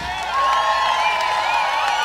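A live audience of polka fans cheers and applauds a polka band at an evening show, a steady wash of crowd noise with whoops rising over it while the band's instruments ring on.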